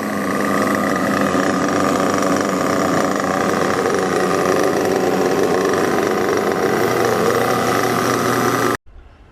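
Kyosho Inferno MP9 RTR nitro RC buggy engine idling steadily during break-in, a loud, close, buzzing drone that holds constant before cutting off abruptly near the end.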